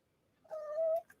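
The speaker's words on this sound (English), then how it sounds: "This is Socks, my cat Socks" A cat gives a single clear, close meow that rises then holds for about half a second, preceded by silence and followed by a soft thump.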